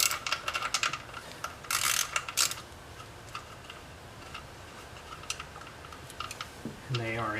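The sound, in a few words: wrench removing 10 mm nut and bolt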